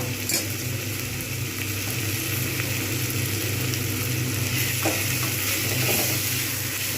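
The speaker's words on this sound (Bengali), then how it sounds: "এটা কিন্তু ভাজা হবে ভালো করে" Drained mung dal and rohu fish head fry together in a pan, giving a continuous sizzle with scattered scraping and stirring sounds, fairly close and steady with no speech.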